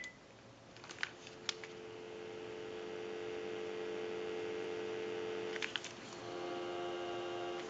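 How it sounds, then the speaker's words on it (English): A Panasonic KX-TG2357 cordless telephone under repair gives a steady, continuous dial tone, with a couple of sharp clicks early and again near the end as buttons or the handset are handled. "We'll give you some dial tone."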